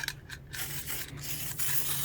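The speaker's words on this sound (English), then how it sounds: "This is my acrylic lacquer spray, clear acrylic lacquer spray, and I am spraying it on these coasters and my jesmonite tray." Clear acrylic lacquer is sprayed from an aerosol can onto jesmonite coasters and a tray in short hissing bursts with brief pauses between them, close up over a low background hum, with no talking.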